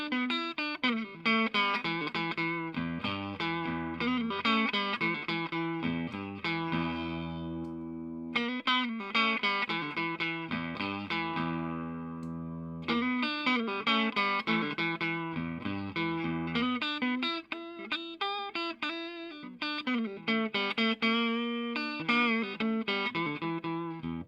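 An electric guitar plays chords and runs through a custom 5-watt 5F1 tweed tube amplifier, with a warm, slightly overdriven tone, sustained notes ringing between phrases.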